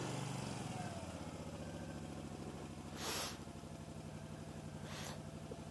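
A 1999 Moto Guzzi California V11EV fuel-injected motorcycle idles steadily up close, its engine throbbing in an even, low pulse with two brief louder hissy bursts partway through.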